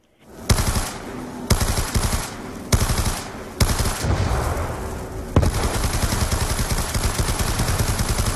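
Rapid automatic gunfire in the Black Ops 2 Zombies video game on the Town map, dense bursts broken by a few short pauses, then one long continuous stream of loud shots.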